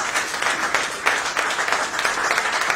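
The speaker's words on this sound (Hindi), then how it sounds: "हम सब उनके लिए भी एक बारी ताली बजाएं" An audience at a Delhi BJP political event applauds doctors, a steady wash of many hands clapping together, moderately loud and continuous throughout.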